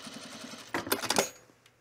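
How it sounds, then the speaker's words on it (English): Sewing machine stitching a puffer vest collar seam: a faint soft patter, then a short louder burst of rapid stitching that fades out; close and quiet. "We're stitching really close to the seam line."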